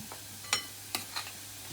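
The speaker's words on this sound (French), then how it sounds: "Je vais tout mélanger." A spoon stirs thyme, parsley and lemon juice together, giving three or four short, soft scrapes against the bowl with quiet pauses between, alone and close.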